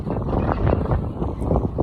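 Gusty wind buffets the microphone outdoors at a playground, making a rumbling, surging roar that swells and eases over a couple of seconds without any talking.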